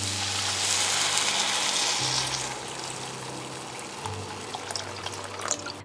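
Loud sizzling and frying of vegetables in a pot gives way to a bubbling, trickling sound as water is added for miso soup, settling into a quieter simmer.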